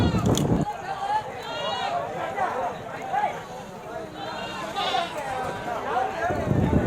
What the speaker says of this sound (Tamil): இன்னைக்கு ஆட்டு சந்தை பார்த்தீங்கன்னா பெரும்பாலும் வளர்ப்பு குட்டிகளோட சந்தையாக தான் இருந்தது.